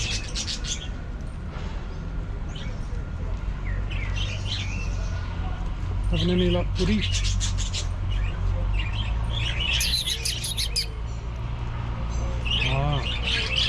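Budgerigars chirp and squawk in an aviary in Rabat, Morocco, with bright scattered tweets and warbling calls at close range over steady outdoor background noise, while someone speaks briefly.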